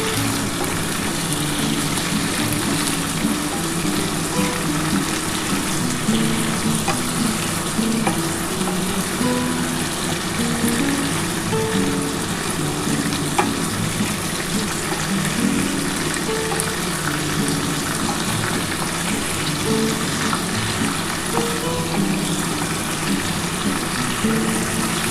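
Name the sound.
chicken with yogurt frying and stirred in pan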